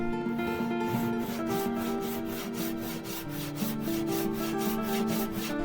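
Hand saw cutting wood clamped in a vise, steady rhythmic back-and-forth rasping strokes at a brisk even pace, close and moderately loud with no talking.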